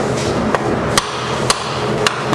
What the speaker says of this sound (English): Just make sure you don't break it when you're hammering it.